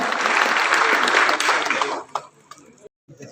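Applause from a crowd at a political felicitation event in Maharashtra swells loud and dense, then thins out into scattered claps and fades to near silence.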